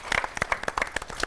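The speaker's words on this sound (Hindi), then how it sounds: "तो जोरदार तालियों के साथ हमारे लक्ष्मण जी का भी स्वागत करेंगे" Studio audience on a Hindi television special clapping to welcome a performer playing Lakshman, a short burst of dense, close applause with sharp individual claps standing out.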